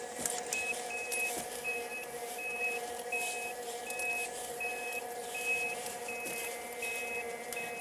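A heavy semi-truck rumbles steadily nearby on the road in traffic while a high, evenly spaced beep repeats throughout.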